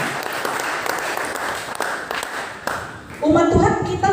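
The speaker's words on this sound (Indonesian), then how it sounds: "Tepuk tangan dulu buat Tuhan Yesus." Church congregation claps for Jesus, a sustained ripple of applause that fades near the end as a voice starts speaking over it.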